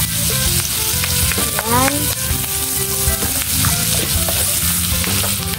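Onion sizzling with garlic in a hot frying pan, a steady loud crackle with scraping stirs throughout and a brief word spoken over it.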